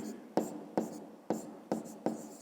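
A pen or pencil writes out a fifth-grade math exercise by hand, giving five short scratchy strokes at roughly even intervals, close and fairly quiet.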